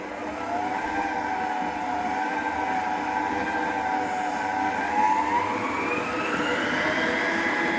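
An Anko white bench mixer from Kmart runs its motor at full speed, giving a steady, close whirring whine whose pitch drifts slightly upward, with no talking.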